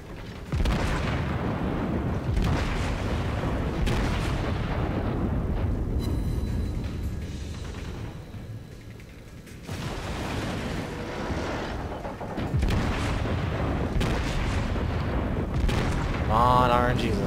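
Heavy naval guns of the battleship Fuso firing in a naval warfare video game, booming blasts repeating over the clip, with a voice talking over much of it.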